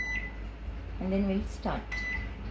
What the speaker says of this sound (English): Now again we'll press convection mode here, and now we have to microwave this cake for about 30 minutes